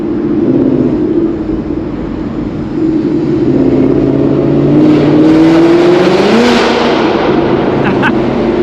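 A Ford Mustang S550 engine rumbles steadily and rises in pitch as it revs while driving, loud and close, with road and wind noise underneath.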